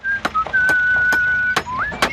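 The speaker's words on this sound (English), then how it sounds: "spent his 40-year career whistling as he worked" A clear melodic whistle holds long steady notes and slides upward, broken by several sharp percussive knocks, loud and close.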